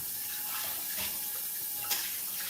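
Bok choy being washed under a running kitchen tap, a steady, fairly quiet hiss and splash of flowing water with brief louder splashes.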